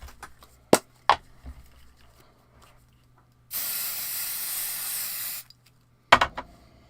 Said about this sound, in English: I'm just going to get some of my stick and spray.